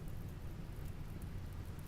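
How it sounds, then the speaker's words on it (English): Rain falling in the video game Rimworld, a steady, even hiss of rainfall with a low rumble underneath, holding constant throughout with no voices. "Ah, it's raining!"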